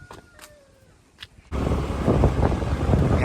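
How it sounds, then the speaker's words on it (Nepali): Wind blowing outdoors at a village in the hills: a quiet start with faint sounds, then a sudden loud gust of wind buffeting the microphone, continuing as a strong roaring rush. "हावा चाहिँ सिरिरी चलिरहेछ"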